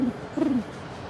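A person imitating a pigeon with two low, soft cooing hoots, a short one followed by a longer, wavering coo, heard outdoors on a chilly New York City street against steady background hum.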